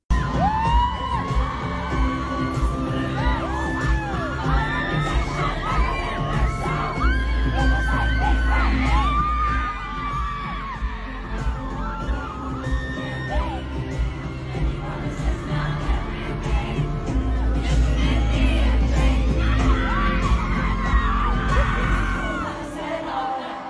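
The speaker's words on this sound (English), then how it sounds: "a confirmation that was met with applause and celebration by the crowd" A big concert crowd at a show cheering, whooping and shouting together, a continuous roar heard from within the audience with scattered high yells rising over it.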